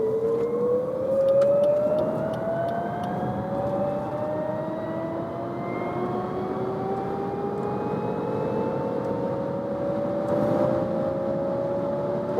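Lexus UX 300e electric car accelerating hard toward its top speed, its motor giving a steady rising whine that climbs in pitch over a constant bed of road and wind noise inside the cabin.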